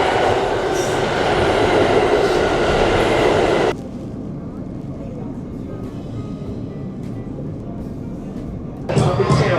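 A New York subway train roars loudly through a station at Christmastime, a dense rumbling rush that cuts off abruptly midway into a quieter platform hum, then swells again near the end as another train noise returns.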